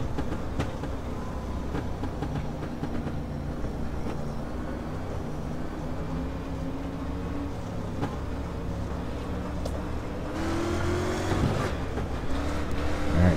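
Engine rumble from a dirt street stock car in the iRacing sim at Lanier National Speedway, a steady low growl with shifting revs throughout, rising slightly near the end.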